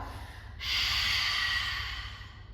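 A strong, loud exhale pushed out through the mouth in yoga fire breathing, a single breathy rush that starts abruptly and holds for about two seconds before tapering slightly, close to the microphone.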